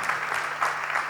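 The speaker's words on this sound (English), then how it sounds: "Can we please give another round of applause onto the panelists?" A youth conference audience applauds the panelists with full, continuous clapping, some sharper claps rising above the wash, over a faint electrical hum.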